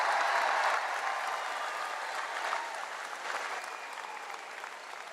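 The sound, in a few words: stadium crowd applause for first responders and staff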